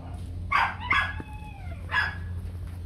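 Bac Ha white fluffy dogs bark in a few sharp yips and barks, with one whining, falling call between them, fairly close over a low background hum.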